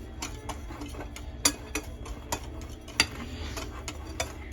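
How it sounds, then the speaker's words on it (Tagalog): Dry ingredients for kangkong chips being mixed in a bowl, giving light scattered clinks and ticks of a utensil against the dish, with a few sharper knocks, close and fairly quiet. "let's mix all our dry ingredients"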